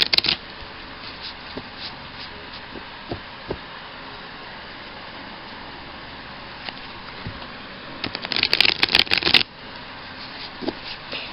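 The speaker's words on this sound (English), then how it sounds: "I'm going to shuffle my cards 3 times" Tarot cards are shuffled close by: faint scattered flicks and taps, then a quick, louder riffling burst near the end, with no talking.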